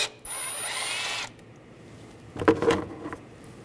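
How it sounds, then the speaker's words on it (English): A 10mm socket ratchet removes a bolt on a 2013-2016 Dodge Dart during a spark plug change: a steady mechanical whir, then a short burst of clicking pawl strokes close up. "Using a 10mm socket, take this bolt out."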